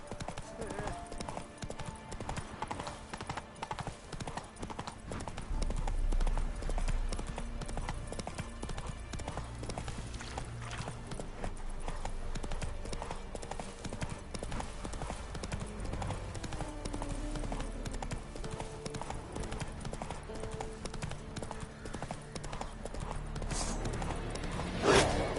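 Roach the horse from The Witcher 3 clip-clops steadily throughout, hooves keeping a continuous rhythm under game music, with brief spoken lines over it.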